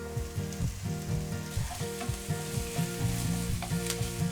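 Steady loud sizzling of kimchi stir-frying in a pan, with a constant crackling hiss over a low humming background.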